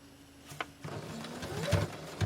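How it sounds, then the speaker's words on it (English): A sewing machine stitches lace onto fabric for a child's corset top, a steady close mechanical whir that speeds up toward the end, with no talking. "So right there, I'm going to sew my lace on"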